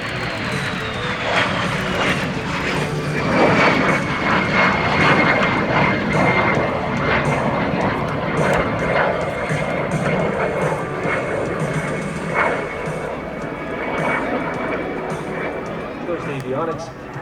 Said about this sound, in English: coming down at very low altitude and in very high speed, giving us a great look at the beautiful lines of the Havilland Vampire